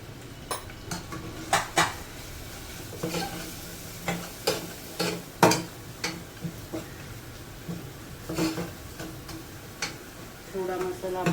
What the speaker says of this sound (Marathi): थोडा मसाला आपण भाजून घ्यायचा.